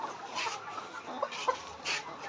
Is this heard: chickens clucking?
yes